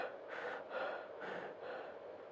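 A voice mimics an abnormal breathing pattern as the breaths grow shallower, with four breathy exhalations in an even rhythm that weaken in loudness, close and with nothing else heard.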